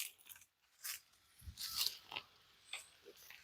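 A person bites into a ripe star fruit outdoors, producing a few quiet, close, crisp crunches followed by soft chewing, with no talk.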